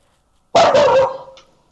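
A pet dog gives one loud, close bark that trails off into a brief whine, with quiet before and after.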